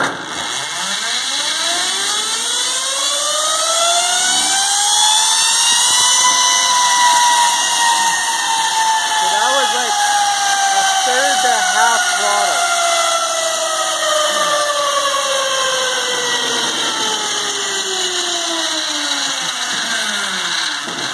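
An 81 hp split-phase electric motor with dual controllers spinning on a dyno at part throttle, whining tones sweeping up then back down over about twenty seconds, loud and steady with no talk.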